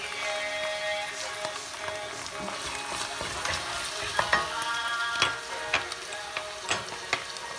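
Garlic sizzles in a hot pan as filling for Turkish börek is cooked, a steady close frying hiss broken by scraping stirs and small pops.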